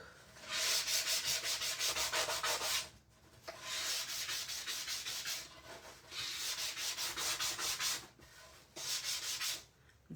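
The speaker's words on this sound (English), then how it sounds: "This is just a 120 grit sanding sponge, or sanding block." A 120 grit sanding sponge rubs across the wood edge of a stenciled 12-inch round peacock door hanger, in four close, steady bursts of scratchy back-and-forth strokes separated by brief pauses.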